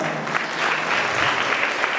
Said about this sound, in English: give a big round of applause for the excellent work you have done